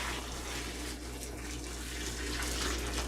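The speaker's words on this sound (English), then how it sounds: "Just pour in enough to cover the berries." Boiled water pours steadily from a large pot over blackberries in a fermenting vessel, a continuous close gushing and splashing with no talking.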